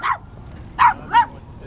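A dog at Penn Valley off-leash dog park in Kansas City, Missouri, gives three short, mid-pitched barks, one then a quick pair, close and fairly loud over quiet outdoor background.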